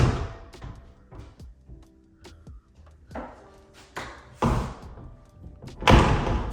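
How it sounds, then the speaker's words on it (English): Sliding barn doors on a closet in a luxury Dallas home being rolled and moved, with several rumbling slides and solid thumps and knocks as the doors stop, close and loud. "right here in front of us, we got some sliding barn doors"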